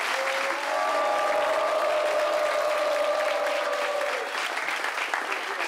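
A studio audience at a French television debate show applauds loudly and steadily, a dense wash of clapping that holds for several seconds before thinning slightly toward the end.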